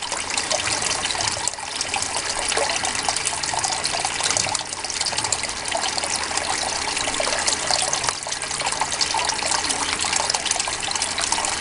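Steady water rushes and splashes down a gold sluice box used with a magnetic gold trap to clean up black sand concentrates, loud and continuous throughout with no voices.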